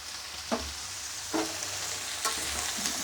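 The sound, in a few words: stirring bean, radish and potato ghonto in a frying pan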